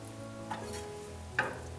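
Bread poha mixture fries and is stirred in a pan, giving a soft continuous sizzle with two brief scraping strokes of the spoon, close and fairly quiet.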